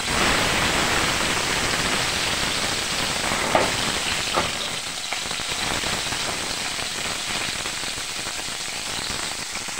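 Vegetables hit hot cooking oil in a kawali pan and fry for adobong sitaw at kangkong, giving a steady, close, hissing sizzle that fades slightly but never stops, with a few faint knocks.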